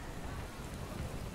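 Steady rain pours in a scene from the TV series Good Omens, a dense, even hiss of drops with a low rumbling undertone, continuous and moderately loud with no voices.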